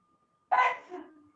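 A single sharp sneeze bursts out after a moment of quiet in an indoor podcast setting, loud and abrupt, then trails off into a softer exhale.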